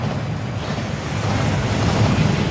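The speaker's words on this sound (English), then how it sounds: "That waterfall washes away all enchantments." Rushing water of the waterfall at Gringotts in the game Hogwarts Legacy, a steady broadband roar that swells slightly louder toward the end, with no voices over it.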